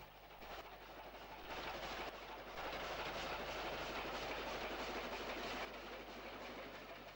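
Stanier 2-8-0 steam locomotive hauling a train past on a former LMS line near Repton and Willington, a steady rushing rumble with faint rail clatter, fairly distant and continuous throughout.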